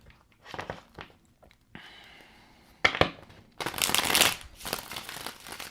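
Tarot cards are shuffled and riffled close up in several crisp bursts, building to a longer, louder run of rapid flicking near the end.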